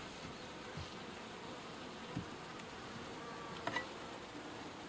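Bees buzz faintly around an opened horizontal beehive, a soft steady hum with a few brief closer passes of individual insects flying by.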